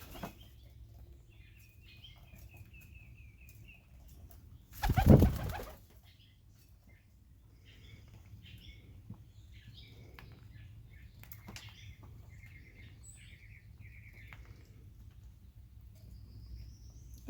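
A pigeon in a loft takes off with a single loud burst of wing flapping lasting about a second, close by, followed by quiet room tone and faint soft cooing.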